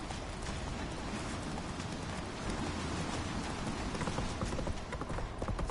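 Roach the horse gallops in The Witcher 3, with rapid rhythmic hoofbeats drumming steadily over a dense rumbling wash, close and continuous, with no voices over it.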